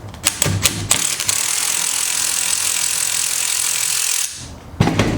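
A ratchet wrench clicks close up as it unscrews a nut on a rake handle, a few quick separate clicks at first, then a long steady run of ratcheting that stops abruptly, followed by a couple of final clicks.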